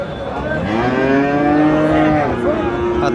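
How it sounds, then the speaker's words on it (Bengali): Jersey-breed cattle moo at a livestock market, one long, loud, drawn-out bellow close by lasting about three seconds. "জার্সি ব্রিডের গরু কিন্তু এগুলো।"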